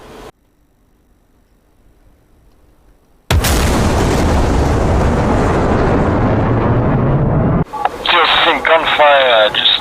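Gunfire and explosions in the DCS World combat game arrive as a sudden, sustained wall of loud, dense rumbling noise after near silence, followed by radio-style voice chatter over the din.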